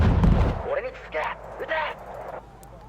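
Harpoon anti-ship missiles fired from naval ships in the Wargame strategy game, a heavy booming launch blast at the start followed by several shorter whooshing, roaring bursts, with speech around.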